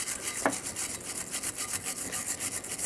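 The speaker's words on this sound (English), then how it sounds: "Use a wire brush or some sandpaper for this." Wire brush or sandpaper scrubbing the slider pin ports and mounting points on a 2008-2012 Jeep Liberty front brake bracket, a close, continuous rasping scrape in quick even back-and-forth strokes.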